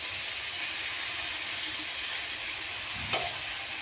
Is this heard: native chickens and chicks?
no